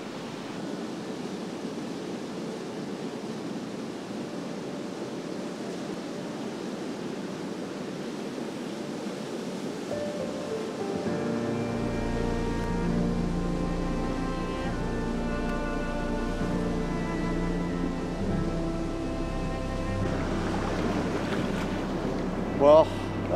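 A waterfall in the Temagami wilderness sends up a steady, broad rushing roar close by. Midway through, faint tonal sounds and possible murmuring voices rise over the constant wash of water.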